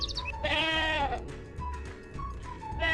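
A goat bleats in a wavering cry early on, with further faint bleats over a constant low farmyard rumble.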